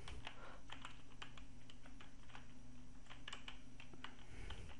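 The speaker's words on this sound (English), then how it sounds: "I'm typing username and some" Someone types a username on a computer keyboard in a steady run of quick, light keystroke clicks, close but soft, with no one talking.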